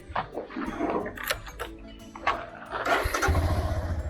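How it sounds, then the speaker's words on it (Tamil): A Royal Enfield Himalayan motorcycle engine cranks and catches, settling into a steady close idle after a few scattered clatters and bumps. "ஸோ வண்டியை ஸ்டார்ட் பண்ணியாச்சு."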